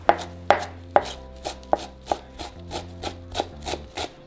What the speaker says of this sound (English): next we're going to chop our cilantro